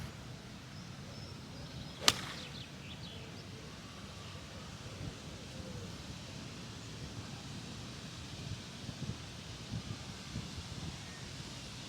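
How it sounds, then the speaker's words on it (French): A single crisp strike of a 9 iron on a golf course fairway, one sharp close impact followed by a faint whoosh, then wind rustle and quiet outdoor ambience for the rest. "je vais taper un tout petit coup de fer 9"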